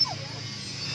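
A loose dog gives a brief, faint whimper and a few soft yips near the start, over a low steady background hum.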